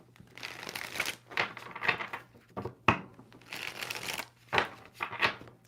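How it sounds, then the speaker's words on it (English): Tarot cards shuffled in hand produce repeated close riffles and slaps in uneven bursts, moderately loud against a quiet background hum. "Two more shuffles for Pisces."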